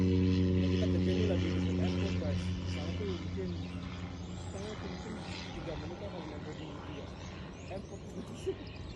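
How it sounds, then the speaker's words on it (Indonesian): A fixed-wing airplane passes near an airport beside a vineyard in the pre-dawn dark, its engine a steady, loud drone at first that fades gradually over several seconds. "Juga sering ada suara bunyi kapal pesawat itu lewat, ya itu karena kita dekat airport kerjaannya."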